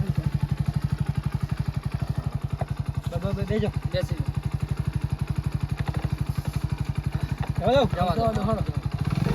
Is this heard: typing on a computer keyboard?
no